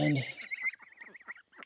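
Small runner ducks resting in the shade of a raspberry bush give a brief honking, quacking burst, then a string of softer, fainter calls at close range.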